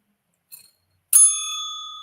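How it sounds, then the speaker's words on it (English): A bicycle bell rings twice: a brief faint ding, then a bright, clear ring that lingers and fades slowly, heard alone in a quiet space. "Oh, you're ringing the bell?"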